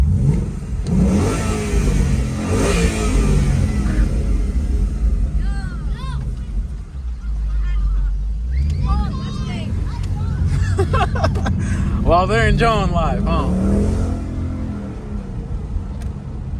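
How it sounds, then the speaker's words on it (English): A stock 2024 Ford Mustang EcoBoost Premium engine revs up loudly a few times amid steady rumble, with people chattering nearby throughout. "for stock, it revs pretty nicely"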